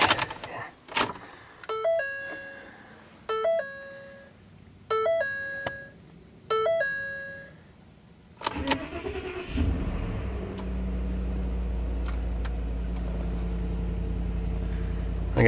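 A Ford F600 truck idle for a week chimes several times as the key turns, then the engine cranks and catches on a cold start near eight seconds and settles into a steady, rumbling idle.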